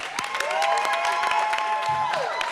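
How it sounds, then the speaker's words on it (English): Applause for Mrs. Eula Mae Jones at a public board meeting: scattered claps from a room crowd with cheering and whoops on top, a sustained high vocal tone running through it. "Please join in a round of applause"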